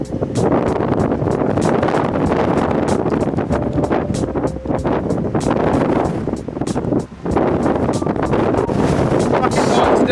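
Strong wind roars steadily across the microphone at Sennen Cove on a hot, very windy day by the sea, a loud continuous buffeting with only one brief dip.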